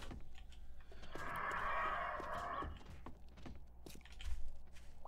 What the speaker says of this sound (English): Yeah, we got a couple of birds.